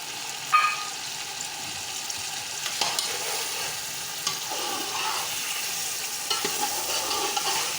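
Mutton frying with about a cup of yogurt in a pot for white mutton pulao makes a steady, loud, close sizzle with occasional stirring scrapes and bubbling throughout.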